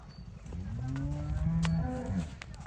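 A heifer moos once in a long, low, drawn-out call, fairly close, with faint background noise.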